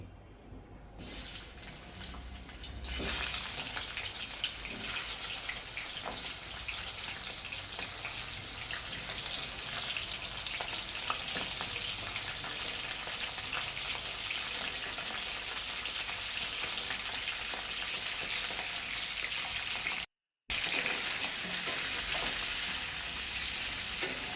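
Marinated crabs fry lightly in oil with a continuous loud hiss and sizzle, close by, with a sharp onset and a brief dropout near the end.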